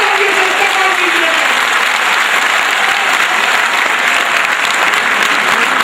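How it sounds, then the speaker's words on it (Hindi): Loud, continuous applause from an auditorium audience welcoming a child who received a national children's award, dense clapping filling the hall steadily without pause. "जोरदार तालियों से स्वागत कीजिए।"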